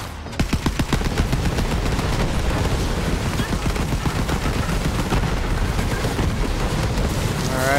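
Dense, continuous rapid gunfire with booming blasts fills the whole stretch in the Borderlands 3 video game, loud and relentless, with grenade explosions mixed into the barrage and a voice talking underneath.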